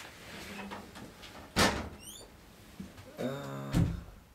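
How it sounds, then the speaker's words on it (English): A door swings shut in a building in Lahore housing paintings, giving two dull thuds a couple of seconds apart, the second after a brief creaking whine, over quiet room noise. "Close the door."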